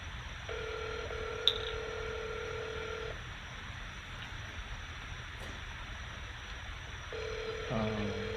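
Telephone keypad dialing tones sound during a phone call: two long steady beeps, one early and one near the end, with faint line hiss between them.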